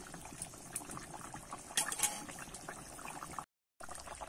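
A thin Bengali fish curry of small carp and drumsticks bubbles steadily in a pot, a constant close simmering hiss and gurgle with occasional louder pops and no voices.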